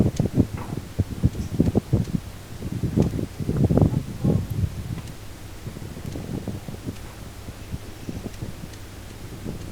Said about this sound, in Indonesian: angin cukup besar ya